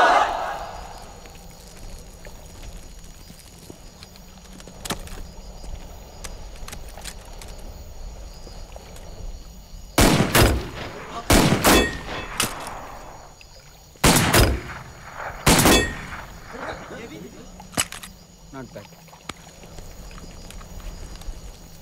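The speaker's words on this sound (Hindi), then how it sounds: "लोग यहाँ पे आके गन चलाना सीख गए" Gunfire in a comedy film scene comes as a few sharp, loud cracks bunched in the middle of the stretch, some fired in quick pairs, over a busy background with voices now and then.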